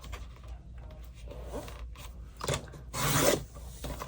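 Paper being cut for collage tags, a few close, soft scissor snips and rustling slides, with a louder, longer cutting stroke near the end.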